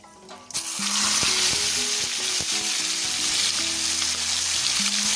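Chicken pieces drop into hot oil tempered with panch phoron, a little sugar, bay leaves and dried red chillies, setting off a loud, steady sizzle that holds with occasional stirring knocks and scrapes.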